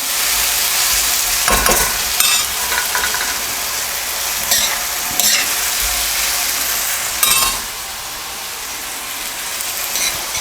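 Pork chilli with oyster sauce is stir-fried in a pan, giving a loud, steady sizzle with intermittent scraping and clanking as a spatula tosses the food.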